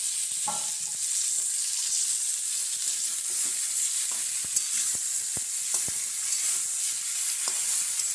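Chicken fries in a kadai while a spoon stirs it, giving a continuous crackling sizzle broken by scattered scraping knocks and taps of the utensil against the pan.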